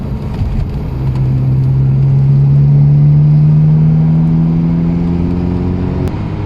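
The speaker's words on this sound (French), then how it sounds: "On entend mieux le moteur, donc elle est moins sonorisée." A Ferrari 348 TS sports car engine with a stainless exhaust, heard from inside the cabin as a loud steady drone that rises gradually in pitch as the car accelerates, then eases off near the end.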